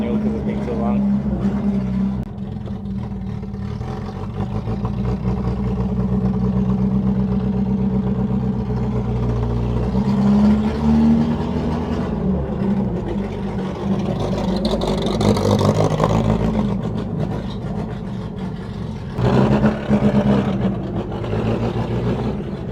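A Mercedes W115 engine runs roughly and struggles to idle, giving a steady low rumble that surges and dips unevenly for over twenty seconds.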